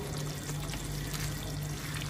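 Half a glass of water poured into white chicken korma gravy in a pan, a continuous soft splashing and trickling under a steady low hum, close and fairly quiet with no talk.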